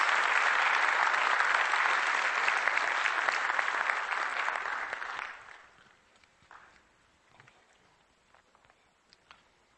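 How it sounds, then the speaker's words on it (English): Conference audience at a GDC 2013 technical art talk on Diablo visual effects applauds loudly and steadily for about five seconds, then the clapping dies away into scattered quiet room noise and a few faint sounds. "And clapping,"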